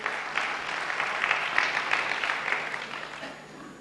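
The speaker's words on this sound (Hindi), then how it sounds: "तालियां बजाइए शास्त्री जी के लिए" A lecture audience at a memory-power talk claps, a moderate, fairly distant patter of applause that swells and then tapers off toward the end.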